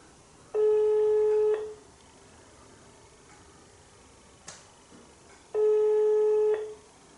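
Two loud bursts of a telephone ring tone, each about a second long with a few seconds of quiet between, left unanswered in a Dutch comedy phone sketch; no talk over it.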